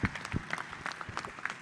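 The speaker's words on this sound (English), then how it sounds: "Give them a big hand of applause, please." An audience at a valedictory session and baton handover claps for a team, a moderate spread of scattered hand claps from a seated crowd, fairly even and without voices on top.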